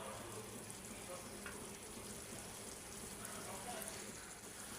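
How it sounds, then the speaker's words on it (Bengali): Dried fish (shutki) frying in a pan makes a soft, continuous hissing sizzle, quiet and even throughout with no breaks. "আমার শুটকিটা ভালো করে কষানো আসছে"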